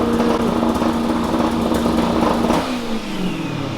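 A turbocharged, manual Dodge Charger Hellcat with full exhaust revs loudly and steadily with a raspy exhaust note, then the pitch drops as it eases off near the end.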